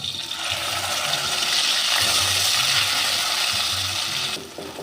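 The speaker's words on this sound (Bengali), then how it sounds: "কালো জিরে কাঁচা লঙ্কা এবার দিয়ে দিচ্ছি টমেটো আর এই কাঁচা লঙ্কার পেস্টটা" Tomato and green chili paste is added to hot oil tempered with nigella seeds in a pan and sizzles close up as a loud, steady hiss, fading slightly at the end.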